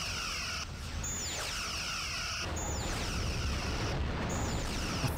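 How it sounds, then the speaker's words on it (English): Quantum torpedoes strike a starship during a Star Trek starship battle game, with repeated descending whooshing sweeps over a constant loud rumbling roar of impacts and engine noise. "They are firing quantum torpedoes"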